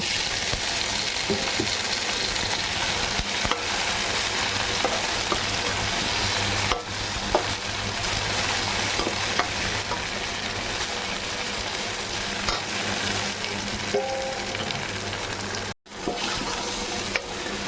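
Tomatoes fry in a tadka for Punjabi saag, keeping up a loud, continuous sizzle for a long stretch with repeated stirring and scraping in the pan and a brief sharp dropout near the end; no one speaks.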